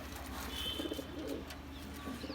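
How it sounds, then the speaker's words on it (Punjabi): Pigeons in a loft coo softly in low, throaty repeated calls, close by, with a faint chirp or two over a steady background hum. "ਆਓ ਤੁਹਾਨੂੰ ਕਬੂਤਰ ਦਿਖਾ ਦਈਏ"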